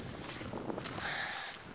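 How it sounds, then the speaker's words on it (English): Wind rushes and buffets against the microphone in a soft, continuous gusty hiss, with no voices. "Yeah, it's really windy now"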